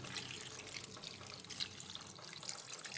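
Water pours steadily into a mixed prawn curry base made with bilimbi and coconut milk, a continuous close splashing hiss for about three seconds with no voices.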